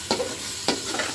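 Tomatoes fry with spices in a pan, giving a close, steady sizzle with two sharp stirring scrapes about half a second apart.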